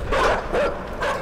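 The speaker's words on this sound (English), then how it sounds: "Fuck you, dogs." Dogs in the video game Inside bark and yap in three short, loud bursts close by, separated by brief gaps.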